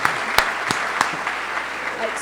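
Applause for an intern arriving from a back room at a book talk, a broadband hiss of clapping with a few sharper claps standing out, moderate and steady over about two seconds.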